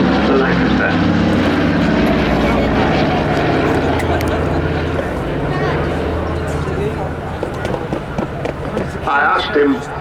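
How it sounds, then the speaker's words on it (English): A Douglas DC-3 propeller airliner drones overhead at an air show, a loud continuous engine roar that fades slightly, with a commentator talking over it. "So a big hero flying this DC-3 for us today. Flight Lieutenant Seth Davey"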